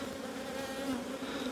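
Crowds of honey bees drone inside an opened hive during a box swap, a constant close buzzing hum with no break and no talk.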